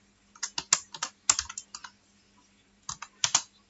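Quick bursts of keystrokes on a computer keyboard, close and crisp, in two short runs separated by a brief pause, with no talking.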